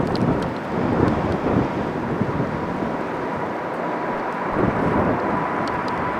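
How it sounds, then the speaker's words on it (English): A Boeing 787 Dreamliner takes off from Birmingham in brutal crosswinds, its engines a broad continuous roar buffeted by heavy wind noise, loud and steady throughout. "Taking off from Birmingham, this Dreamliner got caught in brutal crosswinds that had it wobbling side to side"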